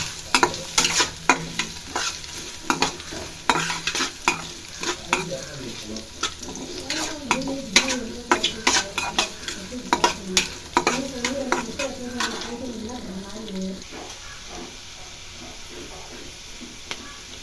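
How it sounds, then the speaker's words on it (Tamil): Onions sautéing in a pan for okra stir-fry, stirred repeatedly with steady sizzling and frying crackle, punctuated by scraping utensil strokes, fairly close and loud, easing off toward the end. "நல்லா வதக்கி போட்டேன் கோல்டன் ப்ரௌனாக வந்து வெங்காயம்"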